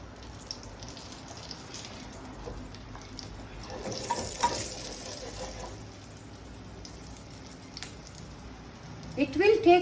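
Whole brinjal frying in hot oil, a low steady sizzle with stirring clatter that gets louder near the end, and a voice is heard partway through.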